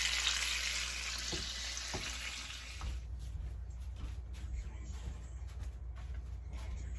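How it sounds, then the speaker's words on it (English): Twelve strips of bacon fry in a pan with a loud, steady broadband sizzle for about three seconds, then the hiss drops back to a low, ongoing crackle with a few faint knocks. "now I'm cooking up the bacon"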